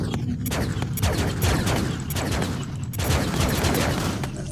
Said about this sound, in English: And these ships, it's their lasers.